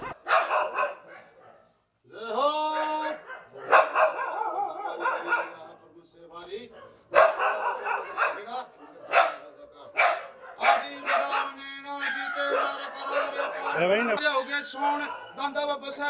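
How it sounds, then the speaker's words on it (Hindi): Dogs in the village of Farmana bark and yelp repeatedly at dawn, bursts rising and falling close by and mixed with human voices throughout. "अचानक कुत्तों के भौंकने की आवाज"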